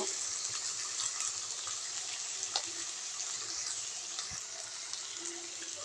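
Water from a rinsed bowl poured into a pan of frying spices (cumin, coriander, chili powder, turmeric), giving a steady, moderately loud sizzling hiss with faint bubbling throughout and no talking.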